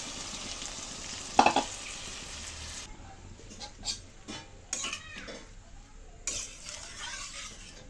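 Egg and potato curry cooks in a pan after water has been added, giving a soft bubbling sizzle with a few metal utensil clinks and scrapes against the pan, fairly quiet.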